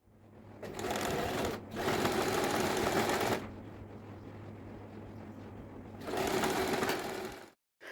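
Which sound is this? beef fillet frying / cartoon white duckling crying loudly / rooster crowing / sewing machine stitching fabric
sewing machine stitching fabric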